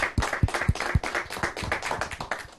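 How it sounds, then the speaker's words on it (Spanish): Spontaneous applause from a small studio audience on a Spanish-language talk show, a handful of sharp, distinct claps close by in an uneven rhythm. "con ese aplauso espontáneo"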